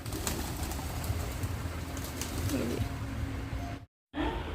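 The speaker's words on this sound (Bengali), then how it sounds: "দেখো এই যে কতগুলো দেখো আঠেরো কুড়িটা পায়রা ঘুরে বেড়াবে" Pigeons, a flock of about eighteen to twenty, coo in low murmuring throbs among soft scuffling and ambient noise outdoors, with a brief dropout near the end.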